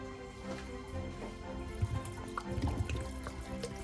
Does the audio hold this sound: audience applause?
no